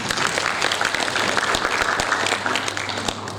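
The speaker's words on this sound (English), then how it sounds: "Can you give a clap?" Audience at a sustainable healthcare conference clapping, a steady round of moderately loud applause with distinct individual claps audible over a low background hum.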